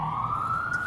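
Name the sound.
ambulance siren passing by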